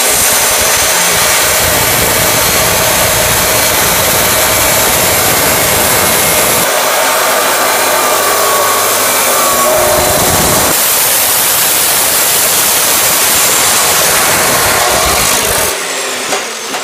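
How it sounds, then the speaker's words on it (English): A chop saw grinds through small sections of metal stock, throwing sparks, with a loud, continuous abrasive roar that shifts in pitch as the blade bites and eases off, ending with a brief drop before the cut finishes. "we're going to cut some little sections off of this on the chop saw"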